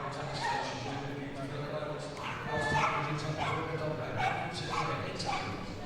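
A fast working Cocker Spaniel barks and yips during a Crufts agility team final run, short excited calls beneath continuous commentary in a busy arena.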